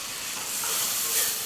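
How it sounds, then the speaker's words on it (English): Butter melts and sizzles in a hot Dutch oven, a brief steady hiss that swells slightly, alone and close. "We're going to throw in some butter."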